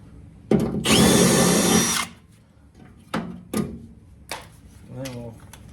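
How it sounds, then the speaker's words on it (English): A power drill with a quarter-inch bit bores a hole in sheet metal during rust repair on a 1969 Trans Am, one loud sustained whir followed by short clicks and knocks, with brief talk near the end. "drill the hole a little bigger. About a 1/4 inch bit."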